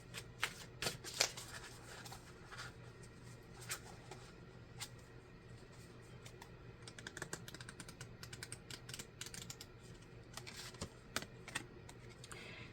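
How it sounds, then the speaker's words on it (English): Oracle cards are shuffled and drawn close by, giving a soft, continuous riffle with scattered small taps and flicks. The sound stays faint throughout, with no voice over it. "Okay, so I'm going to draw a card here."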